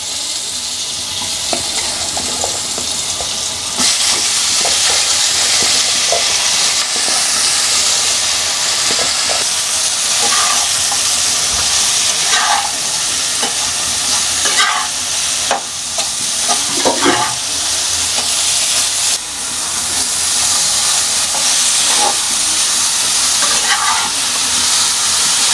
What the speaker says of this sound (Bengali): এখন আমি ফুলকপিগুলোকে এর মধ্যে দিয়ে দিব।